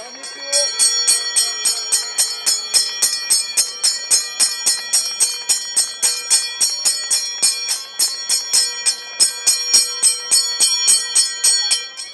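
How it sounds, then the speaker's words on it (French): Last-lap bell rung by hand at the 24 Heures Vélo cycling race finish, a fast, steady string of bright metallic clangs repeating about twice a second for the whole stretch, loud and close, with crowd noise faintly underneath. "Voilà la cloche"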